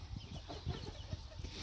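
A Barbu d'Anvers hen gives a few soft, quiet clucks in a short burst, faint against low background noise.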